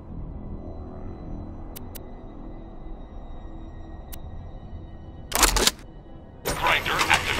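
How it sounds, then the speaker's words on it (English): The grinder machine in the Borderlands video game activates with two short, loud mechanical bursts near the end, after a stretch of quiet hum broken by faint clicks. "Grinder activated."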